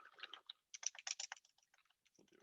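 Quick bursts of keystrokes on a computer keyboard during a software deployment demo, fairly close and clear, irregular clicks with pauses between, tapering to lighter sparse taps.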